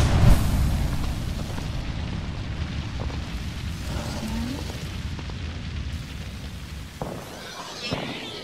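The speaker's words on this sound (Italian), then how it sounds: "Lancio granata termite." A thermite grenade bursts in Apex Legends, a loud rumbling blast at the start that settles into a long, sustained roaring hiss of burning fire, with a couple of sharper thumps near the end.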